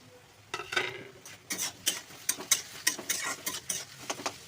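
A spoon scrapes and clinks in rapid, irregular strokes while stirring tomato and fish curry with lati kasu (taro stolons) as it fries and sizzles softly in a pan, close and fairly quiet.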